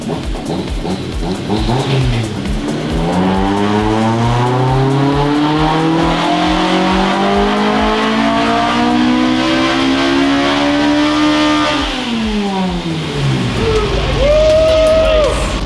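A modified Honda Civic engine on a dyno pull revs loudly, its pitch climbing steadily for about ten seconds before falling sharply as the throttle is released, then winding briefly again near the end.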